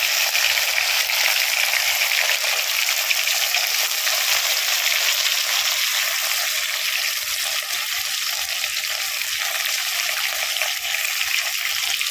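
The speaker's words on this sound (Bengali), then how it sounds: "এই যে এখানে ভেজে রাখা মাছগুলোকে আমি আরেকবার ভালো করে ভাজা করে নিব" Rohu fish pieces fry a second time in hot oil in a wok, giving a continuous bright, even hiss with faint bubbling underneath, close and steady without speech.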